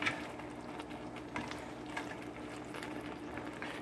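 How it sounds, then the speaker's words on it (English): A quiet, steady bubbling of water with squash simmering in a pot, with soft irregular pops over a low continuous hiss. "it's starting to boil up a little bit"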